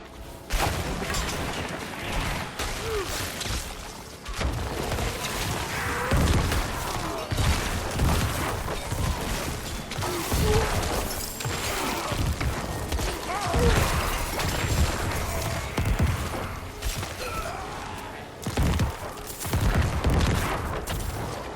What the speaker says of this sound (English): my corpse explosions, into actual like damage over time. These are just normal explosions